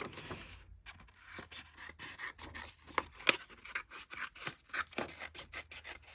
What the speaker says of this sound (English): I don't know why I grabbed those scissors.